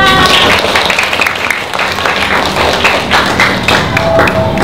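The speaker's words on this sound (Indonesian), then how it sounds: "Tepuk tangan." A class of young children claps together, a loud dense burst of rapid hand claps and thumps from close by that runs for several seconds.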